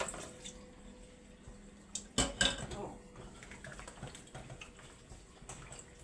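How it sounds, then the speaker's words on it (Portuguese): Water poured into a cooking pot, a brief splash with a clatter of pot and metal near the middle, surrounded by quieter kitchen handling noises. "Vou colocar um pouquinho de água."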